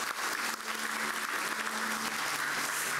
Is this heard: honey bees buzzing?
no